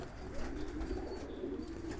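Small birds singing outdoors in the cold, with soft cooing calls and faint chirps over a steady low background rumble, heard quietly at a distance.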